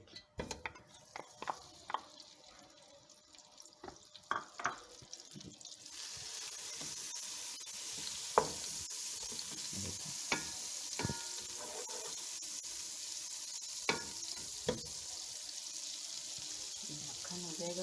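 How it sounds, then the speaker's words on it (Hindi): Two tablespoons each of oil and butter sizzle in a pan while making Chicken Manchurian. Scattered clinks and taps come first, then a steady, fairly faint frying hiss takes over with occasional pops. "ये थोड़ा सा 2 टेबल स्पून मैंने तेल डाला और इसके बाद 2 टेबल स्पून ये मक्खन है"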